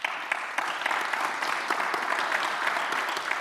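An audience at a justice conference claps in a dense, steady burst of applause that carries evenly to the end, with no talk over it.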